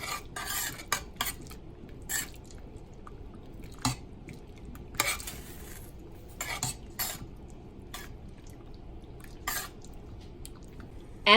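Purple sea moss is stirred in a pot on the stove, with a utensil scraping and clinking against the pot in irregular taps over a soft low background, close and moderately quiet.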